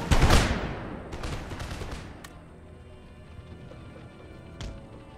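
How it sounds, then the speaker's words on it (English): Light infantry fire a musket volley in the video game Empire Total War: a loud rippling burst of overlapping shots that fades into a rumbling tail, with a few scattered later reports. "My light infantry fired a volley."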